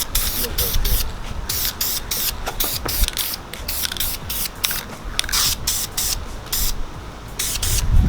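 Blue paint is spray-painted onto the brake calipers of a Mazda Miata in light coats, making repeated short, close hissing bursts with brief pauses between them, while people talk.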